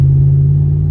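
A deep, steady engine rumble drones low and loud from inside a moving truck with a muffler-delete exhaust, an even exhaust hum with no talking.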